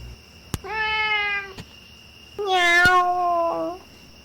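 A cat meows twice as a radio-drama sound effect, two drawn-out, close, clear calls, the second louder and more strained, with sharp taps before and between them.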